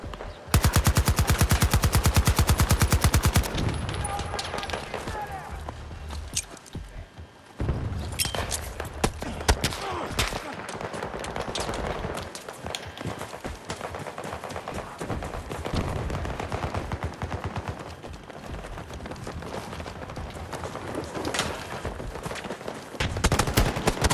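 Rapid automatic gunfire from the Battlefield 2042 video game fills the clip, a loud dense burst opening it before sustained firing with scattered shots and thuds continues steadily to the end, with no talk over it.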